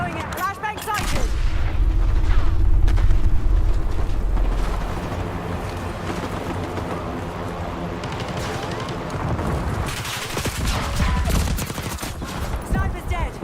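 Video game firefight with frag grenade blasts and gunfire: loud booming bursts and rattling shots fill the first seconds, then a sustained dense barrage with rumbling low end, a voice talking intermittently beneath the din.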